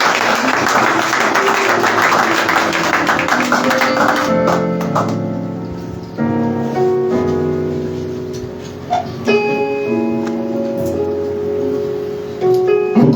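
Church congregation at an Easter service applauding in a dense, sustained wash of clapping that gives way to organ or keyboard chords carrying on beneath scattered claps.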